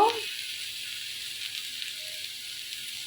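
Vegetable stalks frying with spices, turmeric and chilli in a pan, a steady soft sizzle and hiss running throughout after a brief louder sound at the very start.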